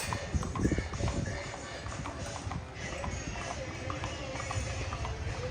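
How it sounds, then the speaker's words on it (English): Horses pulling a carriage clip-clop past on a street in Deadwood, a brisk, steady patter of hoofbeats close by and fairly loud, with faint voices in the background. "Some beautiful horses walking by with a carriage"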